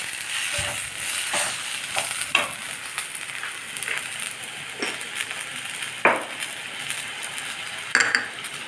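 Tomatoes sauté in a pan for sambar with a steady sizzle, broken by repeated scrapes and clinks of a spoon stirring against the metal, close and fairly loud.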